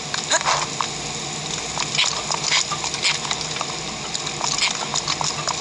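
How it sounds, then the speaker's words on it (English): Steady rain in The Legend of Zelda: Breath of the Wild patters and hisses throughout, a dense even wash of droplets with scattered louder taps. "I'm hoping it'll stop raining by the time I get over here."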